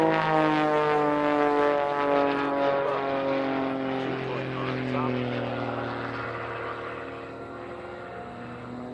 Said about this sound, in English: Wires singing all the way around.